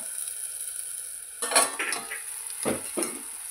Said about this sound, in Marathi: आपण झाकण काढून घेत आहे